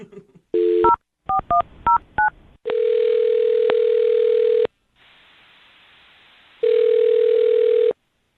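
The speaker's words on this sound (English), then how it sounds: "I'll dial her phone number right now" Touch-tone keypad beeps from dialing a telephone number in a quick irregular series, followed by long steady electronic ringing tones with a brief hiss between them, loud and close.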